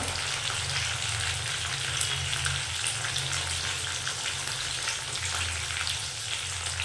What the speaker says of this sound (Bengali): টমেটো কুচি দিয়েও আমি আবার একটু কষে নেব